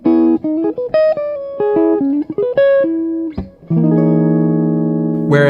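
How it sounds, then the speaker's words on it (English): Clean, undistorted jazz electric guitar plays a short run of single notes and chords, ending on a ringing sustained chord, close and alone with no voices. "And when I think of like a jazz guitar sound, to me that sounds like this."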